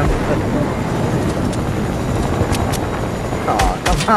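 A helicopter in the Fortnite video game keeps up a continuous broadband rotor and engine roar throughout, with brief sharp game effects near the end.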